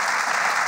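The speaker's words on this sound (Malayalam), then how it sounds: "പല സ്ഥലത്തും അവരുടെ നിയന്ത്രണം വിട്ട് അവർ കയ്യടിക്കുകയായിരുന്നു" Dense applause from a studio audience after a comedy skit on a stage show, a steady loud wash of clapping filling the whole brief moment with no voices over it.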